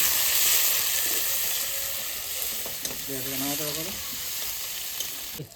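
Bay leaves drop into hot oil while cooking a Bengali desi chicken curry, giving a steady frying sizzle with a brief bubbling crackle in the middle, fairly close and moderate in volume.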